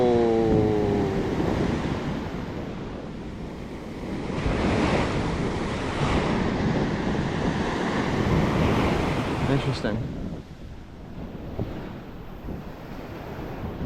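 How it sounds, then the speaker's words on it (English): Surf on Captiva beach rolls in continuously, a broad close wash of breaking ocean waves swelling and receding, with wind buffeting the microphone and a brief spoken word near the start. "get away from the waves"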